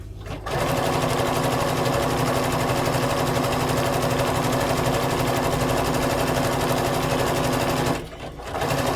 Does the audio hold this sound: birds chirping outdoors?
no